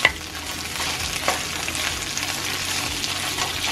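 Steady sizzling of pork ribs browning in a pan, a constant crackling hiss with occasional louder pops, close by and uninterrupted.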